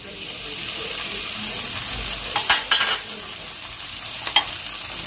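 Chicken keema frying with browned onion in a pan makes a constant low sizzle, broken by a few sharp scraping stirs of a spatula near the middle and end.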